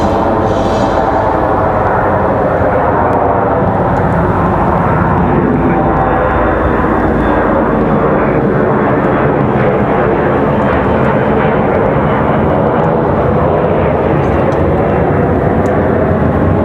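An American Eagle Embraer E-175 jet departing Raleigh-Durham International thunders loudly and close, a dense low roar with shifting tonal whine held steady throughout and no speech.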